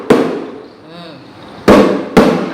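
A rebana Malay frame drum is struck three times with sharp, loud, close slaps: one at the start, then two more in quick succession later, with a voice talking quietly between the hits.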